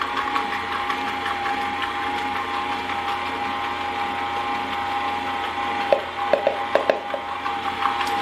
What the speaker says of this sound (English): you want to mix the sugar and the cream cheese and the butter until it is whipped